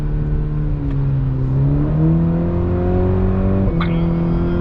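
A 2021 Cadillac CT4-V four-cylinder automatically downshifting while slowing into a corner, heard from inside as a steady engine drone whose pitch steps up with each gear change, rising blips and rev-matched shifts, close and loud.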